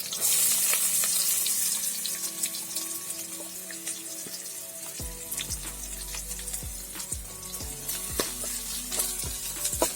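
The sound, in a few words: sliced onion frying in a pan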